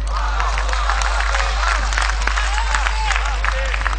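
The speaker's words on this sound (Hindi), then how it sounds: "तो दिनकर की बात पे आपकी तालियां उठे" Audience at a mushaira poetry gathering applauding and cheering, a steady crowd roar of clapping heard over a constant low electrical hum.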